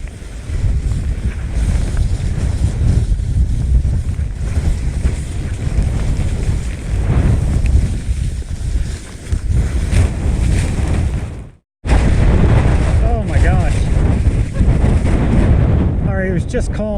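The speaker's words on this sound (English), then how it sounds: "It was just calm down here like 30 seconds ago, and now it's like crazy blowing." Strong gusting wind on a mountain ski slope in Utah ahead of a storm front, a loud, continuous roar that buffets hard, breaks off for a moment, then resumes just as forcefully.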